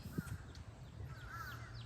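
Crows caw a few times, faint and somewhat distant, over the quiet outdoor background at Lake Lynn, a man-made lake in Raleigh, North Carolina.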